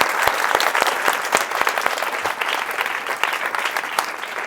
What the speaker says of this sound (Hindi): तो एक बार उस 49 बच्चे के लिए, 49 बच्चे के लिए जोरदार ताली बजा सकते हैं